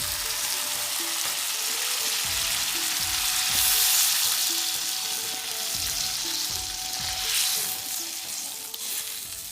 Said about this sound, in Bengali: আমার মশলা কষানো হয়ে গেছে এবার আমি জল দিয়ে দিচ্ছি